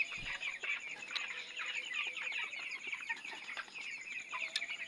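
A flock of farm chickens, recently treated for dysentery, clucks continuously at close range, with overlapping calls and occasional sharper squawks layered into a busy, chattering texture.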